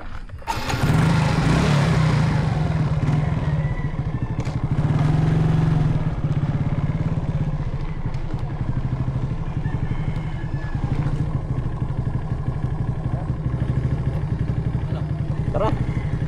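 A motorcycle engine runs loud and close, a steady throbbing idle that holds throughout with slight rises in intensity.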